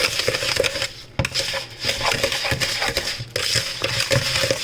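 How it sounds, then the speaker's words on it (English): Butter and sugar being creamed by hand in a home kitchen: a steady, gritty scraping and crunching of a utensil against a bowl, continuous with small irregular knocks, close and fairly loud. "I'm gonna cream the butter and the sugar"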